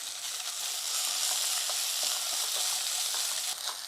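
Crushed fig fruit frying in a pan with green chilies, giving a steady close hiss and crackle with faint stirring scrapes and no voices.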